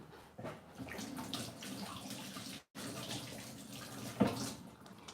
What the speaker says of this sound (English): I will start with this catfish, which I will just be soaking in hot water because they are dried.